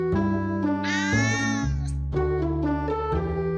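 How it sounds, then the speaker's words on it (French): A drawn-out cat meow that rises and falls, heard over steady background music. "Un miaulement long indique que votre chat n'est pas content de vous voir."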